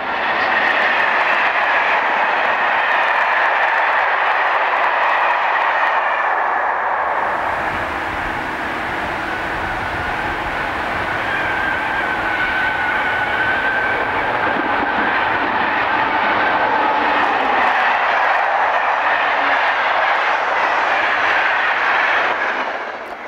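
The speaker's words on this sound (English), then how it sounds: "This is the return train, number EC90, from Basel to Brussels, hauled through Agondage by the same loco, number 15040" An SNCF BB15000 electric locomotive, number 15040, hauls the EC90 passenger train from Basel to Brussels: a loud, steady rumble and whine of passing coaches that fills the whole stretch, shifting in tone partway through.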